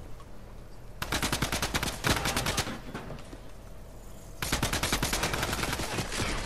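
Gunfire in the game Fortnite, heard as long stretches of rapid, crackling shots in dense bursts that stop briefly midway and then resume, with no talking.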